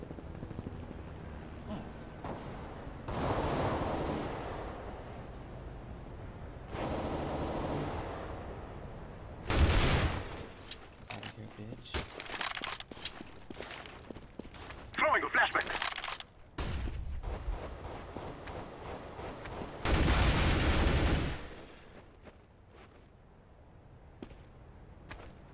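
Video game gunfire comes as several loud, bursting volleys of shots separated by quieter stretches of game ambience and movement, with occasional talk.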